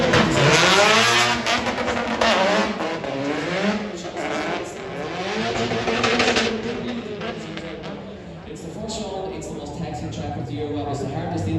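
A drift car's engine at Japfest, Irish Drift Championship, revs hard and rises and falls through the run with a steady loud roar, with tire noise and commentary voices over it.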